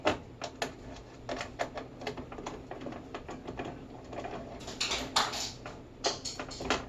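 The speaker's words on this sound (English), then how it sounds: "you're going to take your screwdriver And you're going to just tighten those up to the back of the TV" A screwdriver tightening screws into the back of a TV during wall mounting, a close series of quick irregular clicks and taps, fairly faint, with no talk.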